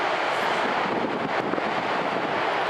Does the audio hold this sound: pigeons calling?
no